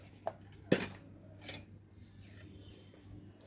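A utensil scrapes and clinks against a bowl while chicken is mixed with salt, turmeric, cumin, coriander and chili, giving a few sharp close knocks followed by softer, quieter stirring.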